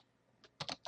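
Quick keystrokes on a computer keyboard, a single tap followed by a close cluster of three crisp clicks, with no voices.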